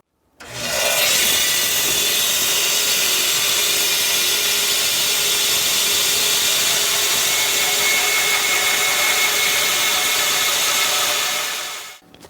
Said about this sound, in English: So I'm gonna resaw this in half